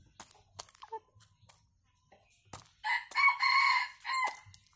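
An eight-month-old Sumatran red junglefowl rooster crows loudly and close by in its cage, a full drawn-out call near the end, preceded by scattered clucks and small scuffling noises.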